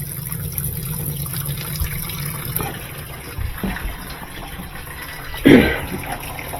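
Hot water running from a tap into a sink, a continuous splashing flow with small clanks, then a brief louder burst of splashing near the end; no talking.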